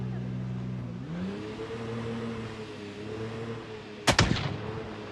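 Gunfire in a video game set in Raven Creek, heard as a short cluster of loud sharp shots near the end, over a steady vehicle engine drone whose pitch rises partway through.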